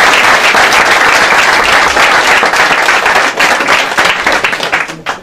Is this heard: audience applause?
yes